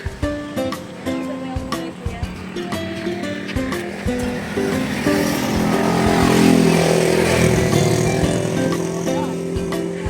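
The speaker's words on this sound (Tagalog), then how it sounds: "Ayan yung motor natin guys" A motorcycle fully loaded for an ice delivery rides through traffic, its engine note rising and swelling into a steady whooshing drone by the middle, close and loud.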